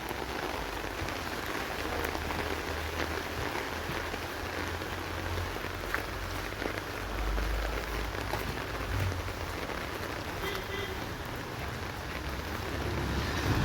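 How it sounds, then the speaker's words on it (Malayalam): Heavy rain pours steadily outdoors for the whole stretch, a dense, even hiss with faint low rumble underneath and no voices. "മഴ നല്ല ശക്തമായി പെയ്യുന്നുണ്ട്"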